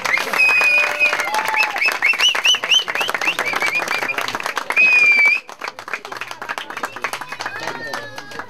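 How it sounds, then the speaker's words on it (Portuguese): Wedding guests clap and cheer in sustained applause at a bride-collection celebration in Leskovac, Serbia, with loud crowd noise and bright whistles throughout, easing into scattered claps and chatter near the end. "Ajde, jedan aplauz za prijatelji"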